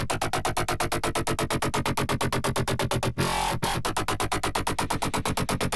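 A synth sound squashed by the OTT multi-band compressor plays as a loud, dense run of rapid rhythmic pulses, briefly broken by a noisy swell, with no talking.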